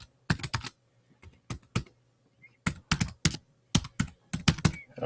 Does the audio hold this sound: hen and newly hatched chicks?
no